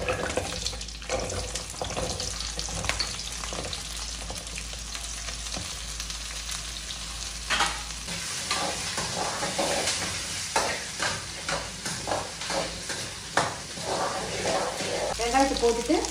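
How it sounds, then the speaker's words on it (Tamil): Shallots frying and stirred in a pan for Chinthamani chicken, a steady close sizzle with scraping strokes of a spoon that grow busier toward the end, with faint water-like splashing in the background. "இப்போ சின்ன வெங்காயத்தை சேர்க்குறேன்."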